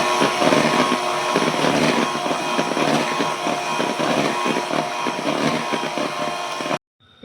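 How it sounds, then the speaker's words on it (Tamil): An electric mixer beats birthday cake batter with powdered sugar, whirring loud and constant nearby with a slight rhythmic churning before it cuts off abruptly at the end. "இப்போ சுகர் பவுடர் வந்து நம்ம கொஞ்சம் கொஞ்சமாக போட்டு பீட் பண்ணிக்கலாம்."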